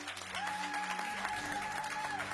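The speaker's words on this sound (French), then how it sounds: "c'est timide comme applaudissement" Light, sparse clapping from a church congregation, steady and moderately close for the whole stretch, with a faint held tone and murmur in the background.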